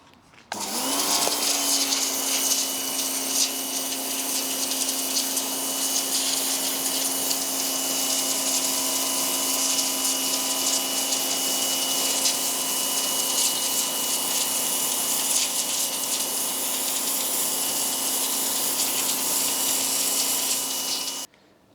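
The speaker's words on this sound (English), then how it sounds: "how well this LawnMaster pressure washer has done at cleaning my drive here" A LawnMaster LT2100B electric pressure washer starts up and runs with a loud, steady motor whine and water spray while blasting moss off a driveway, continuous for about twenty seconds before cutting off.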